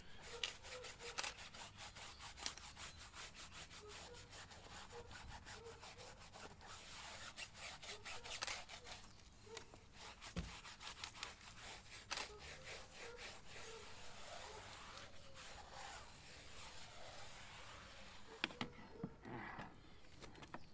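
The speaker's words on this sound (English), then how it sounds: "So we're going to give it a scrub with the brush." A brush scrubs the tyres of a brand new car coated in citrus wheel cleaner, making quiet, rapid back-and-forth rasping strokes that continue steadily, with no talk.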